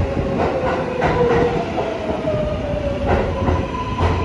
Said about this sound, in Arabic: انا رايحة على ال train على Williamsburg يعني على بروكلين